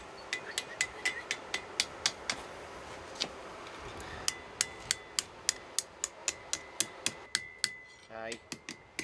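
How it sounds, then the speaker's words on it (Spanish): Hammer blows ring out on hot iron as a hand-forged knife is shaped, the handle being curved; sharp metallic strikes come in an uneven run, then settle into a steady, quick rhythm near the end. "esto lo podemos girar con el martillo"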